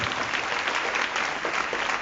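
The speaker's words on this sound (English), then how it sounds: "can you please clap loudly?" A large audience at a college event claps continuously, a dense, loud wash of many hands filling the whole moment without a break.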